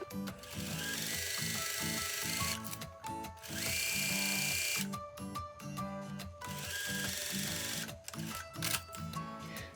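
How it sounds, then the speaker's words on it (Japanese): A sewing machine runs in steady bursts as it stitches the curved front seam of children's pants at a 1 cm seam allowance, its motor whirring loudly with brief stops between runs and no talking. "こちらの前の方のウエストからカーブの部分を縫い代1センチで縫っていきます"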